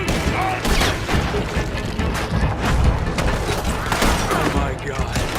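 Chaotic gunfire in the video game Red Dead Redemption 2, dense overlapping shots and booms in a continuous loud firefight, with shouting voices mixed in.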